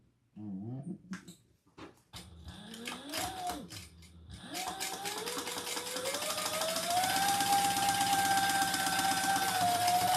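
A sewing machine stitching the accent on a fabric slip pocket, starting in short bursts and then running steadily and fairly loudly with a rising whirring whine, with no talk over it.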